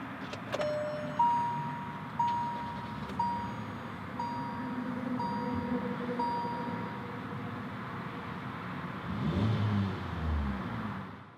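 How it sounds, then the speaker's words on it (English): A 2018 Hyundai Accent SEL engine starts with a brief crank and settles into a steady, even idle hum, with faint electronic chimes repeating during startup and a soft rustle near the end. "So let's go ahead and start it up using the switchblade key here."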